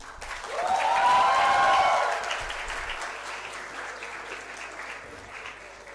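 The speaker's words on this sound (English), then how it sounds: "A round of applause for Mr. George Fulton." Audience applause for a speaker at a media festival, steady clapping that holds for several seconds while a faint voice rises briefly at the start.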